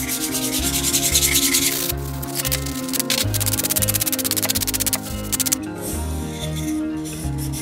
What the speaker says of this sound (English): So then we're just gonna sand this top piece right here.